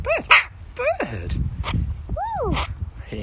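A dog gives a series of rising and falling woo-like howling vocalizations, close and fairly loud, with a few yips and whines between them and little background noise.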